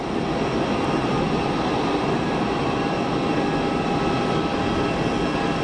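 Saudi Airbus A320 airliner at Geneva Airport, a steady distant jet roar filling the whole stretch with broad, even rumble and hiss, no voices over it.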